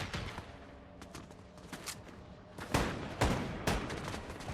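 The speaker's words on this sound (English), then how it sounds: "I'm shooting an auto shotgun" Auto shotgun blasts in Fortnite Zero Build, loud sharp reports firing in a quick irregular cluster, strongest toward the end, over quieter game ambience.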